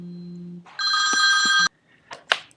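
A telephone rings nearby with a bright electronic trill lasting about a second, preceded by a low hum and followed by a few short knocks and rustles.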